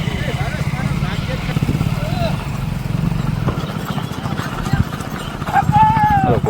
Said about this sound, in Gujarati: પાછી રેવલ ફૂલ ચાલુ ઉપડી ગઈ છે ઘોડીઓ